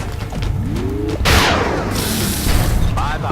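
Headshot gunfire in the video game XCOM Enemy Unknown: a loud sharp blast and crash cut in after a short lead-in of game sounds, then fade into a sustained roar and echo.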